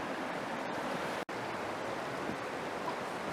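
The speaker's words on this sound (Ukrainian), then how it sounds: "А позаду мене річка, яка називається Чорна тиса." The Chorna Tysa river flowing, a dense, steady broadband rush of water close by, continuous and loud with no voices over it.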